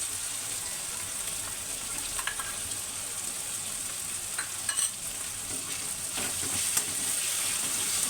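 Chili thecha sautéing with tomato and onion in a pan: a continuous close sizzle with faint stirring scrapes and a few soft pops, with no voices.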